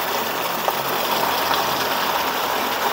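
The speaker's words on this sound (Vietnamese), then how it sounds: "Cái máng xói của ngôi nhà này vẫn còn hoạt động tốt nha, cho nên là nước chảy xuống ào ào luôn nè" Rainwater pours heavily from the gutter of an abandoned house during a downpour, a steady, loud gush of splashing water running continuously and close by.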